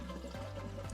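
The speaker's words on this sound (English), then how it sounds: "We're gonna go ahead and flush it," A toilet being flushed to empty its still-full tank and bowl during a fill valve replacement, a short loud rush and gurgle of draining water up close, with no voices.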